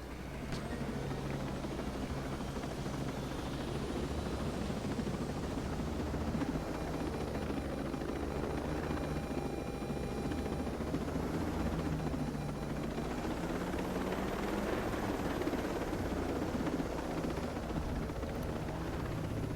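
A video game helicopter flies continuously, its rotor drone and engine roar holding steady and loud throughout with no talking.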